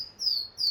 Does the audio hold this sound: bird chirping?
yes